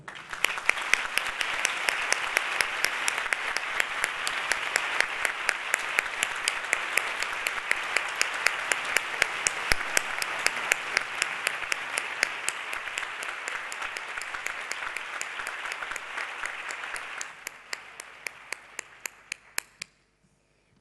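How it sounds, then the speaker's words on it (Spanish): An audience at a 2017 educational excellence awards gala gives young winners a long, warm ovation, sustained crowd clapping that holds for a long stretch before thinning to scattered claps and fading out. "vamos a regalar un gran y cariñoso aplauso a este grupo de jóvenes"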